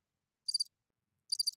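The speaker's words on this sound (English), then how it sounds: "Crickets." Cricket chirping sound effect: two short, bright chirp bursts spaced about a second apart, crisp and isolated against silence.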